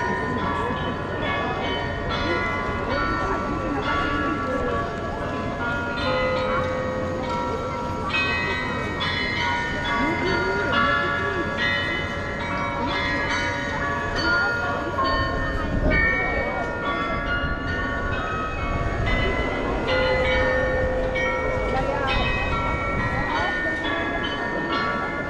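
Bells of the new city hall clock at Marienplatz in Munich chime continuously for the whole span, a layered, sustained ringing over a busy outdoor square with crowd murmur and voices in the background.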